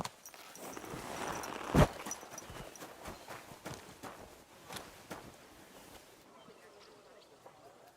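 Horse hooves clopping at a walking pace in the video game Kingdom Come: Deliverance II, moderately close, with a sharp knock partway through and a muffled voice underneath.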